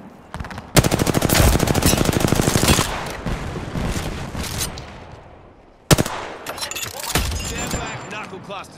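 Video game gunfire: rapid machine-gun bursts rattle loudly, one long burst fading, then another sharp volley and scattered shots toward the end.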